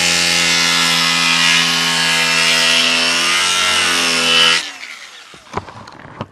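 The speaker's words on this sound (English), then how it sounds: "I want to back grind this." A power tool back-grinds a wooden stair part, giving a loud, steady, high whining grind for several seconds before it cuts off and a few sharp knocks and scrapes follow.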